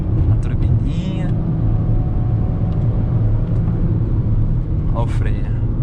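Chery Tiggo 7 SUV with a small turbo engine accelerating in kickdown: a steady, loud low engine drone and road rumble heard from inside the cabin, with someone talking over it.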